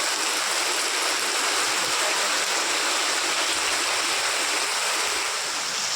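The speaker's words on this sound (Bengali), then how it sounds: "প্রতিদিন বৃষ্টি হচ্ছে" Steady, dense rain falls without pause during a spell of daily rainfall, forming a loud, even hiss that fills the whole stretch with no voices.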